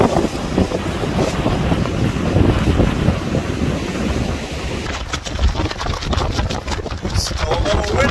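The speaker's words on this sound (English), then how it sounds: "Still a little windy." Strong wind from tropical storm Ian roars across a rough coastal shore with surf, buffeting the microphone in a continuous loud rush that keeps going throughout.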